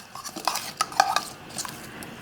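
A spoon mixes spices into pakora batter in a bowl, giving a few light, scattered clinks and scrapes against the bowl over a quiet background.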